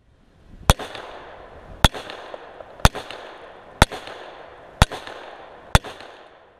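A pistol firing six .45 ACP rounds at a wooden spall liner box outdoors, sharp loud reports at roughly one-second intervals, each followed by a short echoing decay.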